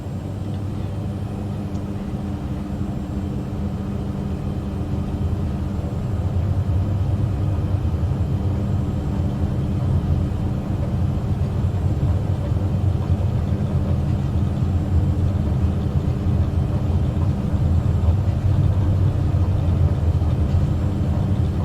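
A light aircraft's engine drones steadily through takeoff over Lake Tanganyika in Africa, a continuous low rumble that swells slightly partway through and holds loud and even to the end.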